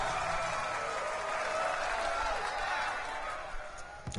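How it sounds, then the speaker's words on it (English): A video game crowd cheers and claps in a steady, dense roar with no pauses, loud and close throughout. "Everybody cheering like I'm in front of an audience."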